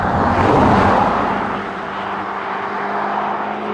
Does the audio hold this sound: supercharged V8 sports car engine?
yes